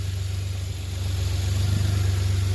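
The rebuilt engine of a 1991 Geo Metro idles while warming up, a close, steady low throb with an even rhythmic pulse that grows slightly louder partway through.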